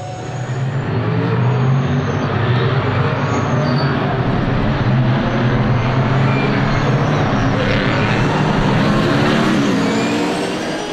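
Supercar Challenge race cars, SuperGT class, roar away from the grid at the start of the season's final race at Assen, a loud, continuous wall of engine noise that stays steady before fading slightly.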